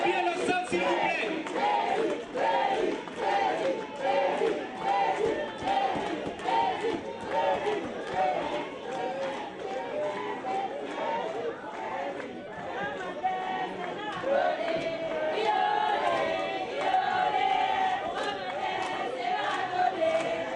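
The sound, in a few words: crowd cheering in the hall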